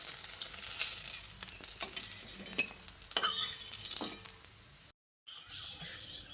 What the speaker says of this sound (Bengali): এবার বড়াগুলোকে লো টু মিডিয়াম ফ্লেমে এইভাবে উল্টে পাল্টে ভেজে নিতে হবে।